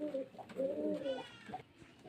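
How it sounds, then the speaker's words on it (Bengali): Giribaj pigeons give a few soft, wavering coos, heard up close and fairly faint. Some other low murmuring sits in the background. "এই যে দেখুন সব গিরিবাজ পায়রা"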